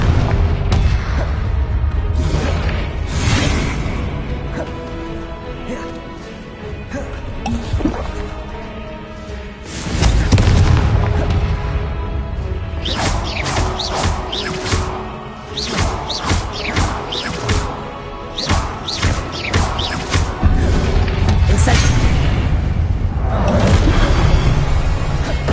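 Repeated fiery spell blasts in the Hogwarts Legacy video game boom and crash over dense game music and effects, loud and continuous, with whooshes and rumbling impacts recurring throughout.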